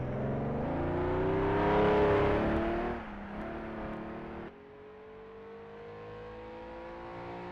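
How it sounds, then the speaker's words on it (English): A 3-litre race car engine in a racing video game on the Isle of Man time trial course, revving hard and rising in pitch before shifting down to a steadier, fainter drone, heard alone. "Mark Ziegler becomes the first of the 3-litre cars to cross the line."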